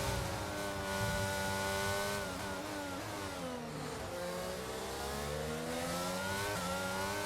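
A Formula 1 race car in the F1 22 video game at Zandvoort screams at high revs, its engine note climbing and dropping through gear changes as it accelerates out on track, loud and continuous with no talk.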